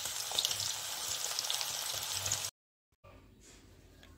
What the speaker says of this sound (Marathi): चला तर मी हे सगळे चिप्स आता तळून घेते